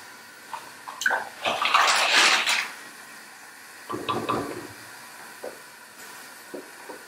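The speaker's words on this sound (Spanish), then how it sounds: "podemos echar la pasta al agua." Pasta drops into a pot of water in a home kitchen, a close hissing splash that lasts about a second, then a second softer splash and a few faint clinks.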